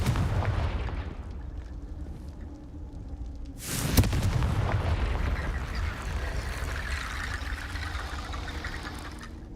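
Confringo blasting spell exploding in Hogwarts Legacy, a single sharp boom landing mid-clip over a steady rumbling game soundscape, with crackling debris and noise lingering loudly afterward.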